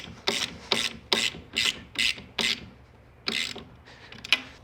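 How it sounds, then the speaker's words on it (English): A hand ratchet tightens the bracket of a motorcycle top case platform onto a rear rack, giving about eight close, loud bursts of clicking, each a quick run of pawl clicks with short pauses between, heard alone without talk. "Then once you get it snug, you can use ratchet."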